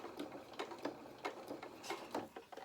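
A sewing machine stitches a hedgehog doll head in short, rhythmic bursts of mechanical whirring and clicking, close up and fairly quiet.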